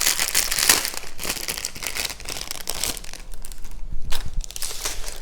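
Continuous crinkling and crumpling of plastic packaging as it is pried open during an unboxing, close and busy for several seconds with a brief lull near the end.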